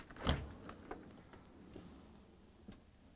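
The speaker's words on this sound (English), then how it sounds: "We're going to open the dishwasher door." A Bosch, Thermador or Gaggenau dishwasher door is pulled open with one sharp clunk at the start, followed by a few faint clicks and taps in a quiet room.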